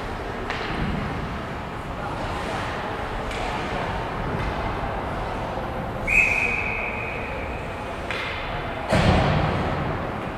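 A referee's whistle stops play in a high school hockey game between Wilderness and the Mercer Chiefs, sounding as one sharp tone in a noisy rink over crowd murmur and thuds, with a commentator talking.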